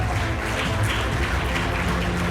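Parents applaud and cheer at a nursery school graduation ceremony, a steady wash of clapping and crowd noise that fills the whole moment without a break.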